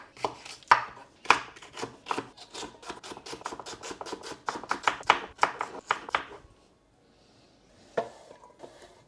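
Green pepper being chopped with a knife on a cutting board during Indo-Chinese vegetable prep: a fast, steady run of close, crisp knife strikes for about six seconds, then a pause and a few scattered cuts.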